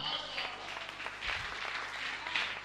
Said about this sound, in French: Acclamez les femmes